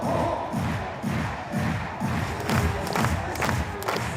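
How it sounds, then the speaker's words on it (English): Crowd at a women's bouldering semi-final in Prague cheers and claps steadily in rhythmic bursts, a loud, continuous roar of encouragement with chanting-like pulses throughout. "The crowd clapping, cheering her on here."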